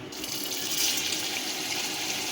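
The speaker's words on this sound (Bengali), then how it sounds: "এবার এই মাছের পিসগুলো সুন্দর করে ভেজে নেব" Vegetarian mock-fish pieces frying in hot oil, a steady broadband hiss and sizzle holding at an even level throughout, with no talk over it.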